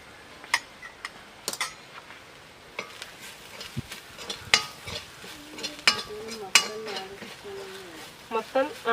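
Shallots and crushed dried chili frying in a pan with sharp stirring clatters and intermittent scraping over a steady sizzle.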